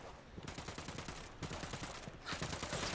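Ghost Recon Wildlands gunfire: rapid, continuous automatic bursts rattling steadily close by, with a louder, denser volley near the end.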